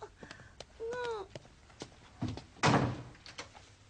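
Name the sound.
front door opening and closing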